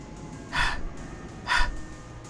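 A girl's heavy breathing in the horror visual novel game Higanbana no Saku Yoru ni: two sharp, close gasping breaths about a second apart over a steady background hiss, with no speech.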